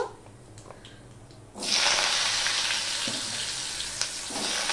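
Potatoes hit hot oil seasoned with black cumin and erupt into a loud, steady sizzle that holds close and continuous after a brief quieter moment.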